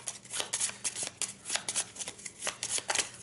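Playing cards for a dungeon solo board game being shuffled by hand, a steady run of crisp riffling and flicking bursts, close and alone with no voices.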